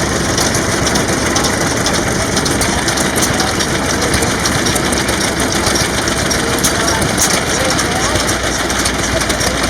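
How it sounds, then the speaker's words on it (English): Several old vintage gasoline engines running together at a power machinery display, a loud continuous mechanical drone with dense chattering texture, steady and unbroken, with faint voices mixed into the din. "These are all gas engines, gasoline engines, precursors like you got in your car."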